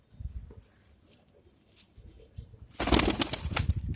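Soft coos and rustling from Bhopal fancy pigeons, then a sudden burst of loud wing flapping close by near the end.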